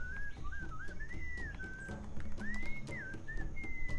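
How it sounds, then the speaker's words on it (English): A melodic, enchanting whistled tune in a Sam & Max adventure game, rising and falling in clear held notes over a soft background bed. "What is that enchanting whistling sound?"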